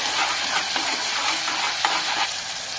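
Onion paste and ginger-garlic paste stirred in a hot pan give a dense, continuous sizzle, with soft spatula strokes surfacing now and then.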